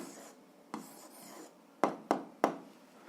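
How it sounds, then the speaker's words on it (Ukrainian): Pen or pencil writing out an algebra answer by hand, heard as a few soft scratchy strokes followed by three sharper taps or marks near the end, close and quiet with no talking. "Пишемо відповідь."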